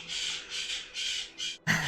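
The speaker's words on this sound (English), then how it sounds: "That's my parrot in the other room." A pet parrot squawks in another room, several rasping calls in a row at moderate volume, then a sharper louder squawk at the end.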